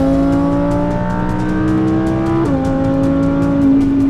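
Audi R8 V10 Plus with a modified exhaust accelerating hard, a loud close engine note climbing in pitch, then dropping sharply at a quick gear shift before pulling again.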